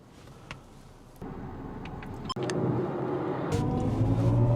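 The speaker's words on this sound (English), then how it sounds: "So we are parked by the highway and we want to do a quick acceleration test." BMW i4 eDrive35 electric car accelerating hard in sport mode beside a highway, a low rumbling road and motor roar that jumps up in steps and keeps building, close and fairly loud.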